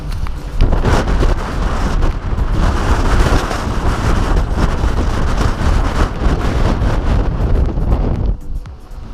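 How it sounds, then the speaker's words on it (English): Strong coastal wind in Tarifa, Spain, battering the microphone with a steady loud roar and low rumble across the whole stretch, easing only slightly at the very end, with no voices. "this is Tarifa, and as you can tell, it's a little bit windy"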